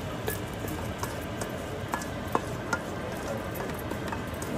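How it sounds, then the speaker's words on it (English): A shrimp mixture for Cajun seafood spaghetti sautes in a pot with a steady close sizzle and occasional light ticks of a spoon stirring through it, with no talking over it. "We can saute all that together."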